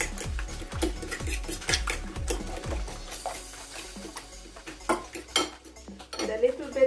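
Eggs, onion and garlic are beaten in a bowl, opening with a fast rhythmic run of utensil clinks against the dish that then loosens into scattered scrapes and taps, close by.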